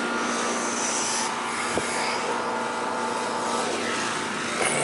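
An air conditioning unit that had been icing up runs after being switched on, giving a steady broadband whooshing drone of fan and compressor that holds level throughout, with a brief click partway in.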